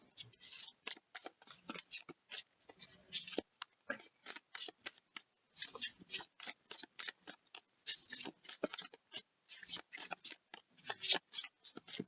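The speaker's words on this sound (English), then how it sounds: "Difficult to shuffle so many cards." Papery cards are riffled and shuffled in quick, uneven bursts, a steady crisp flapping that goes on and on at close range with no voices.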